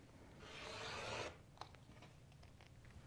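Fabric is cut an inch shorter for a quilted log cabin pillow, giving one soft sustained rubbing cut followed by a few faint light clicks and handling noises.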